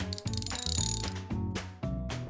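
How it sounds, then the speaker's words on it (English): A torque wrench ratchets while tightening screws on the rear axle of a Peugeot 206. Close, rapid ratcheting clicks come in several bursts separated by short pauses. "Finish off the tightening with a torque wrench."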